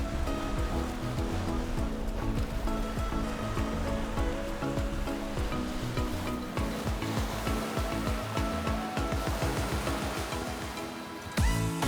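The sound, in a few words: ocean waves at the sea on a windy day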